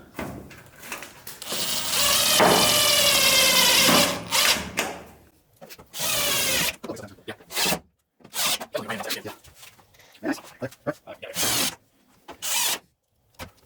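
Self-tapping screws being driven into a go-kart hood on a Jeep Wrangler-style rock crawler build, heard as several bursts of whirring and grinding from a power driver with rubbing and clattering in between, close and fairly loud.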